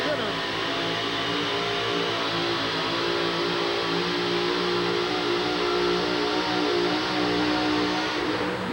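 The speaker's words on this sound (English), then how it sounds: "Let's watch the big blower motor go to work." A 1989 USHRA monster truck's big blower-topped engine roars at steady, sustained high revs at an Anaheim, California event, loud and continuous with crowd noise and an announcer's voice running underneath.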